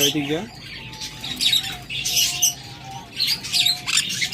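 A pair of sun conure parrots lets out sharp, shrill squawks in repeated bursts, close by, with a low background murmur beneath them.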